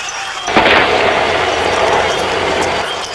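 A single gunshot fired from a government building during an armed confrontation with snipers: a sharp, loud crack followed by a long, sustained rumbling echo, with no voices.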